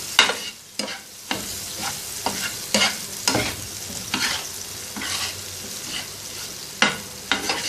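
Tawa kaleji, goat liver with salt and lemon juice, stirred and sizzling on a hot griddle, with repeated scraping strokes of a spatula at an uneven rhythm over a constant frying hiss.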